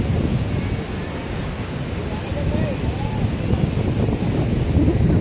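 Wind buffets the microphone at Nagaon beach in Alibaug, a steady broadband roar with the wash of surf beneath it, rising slightly in the second half and continuous throughout.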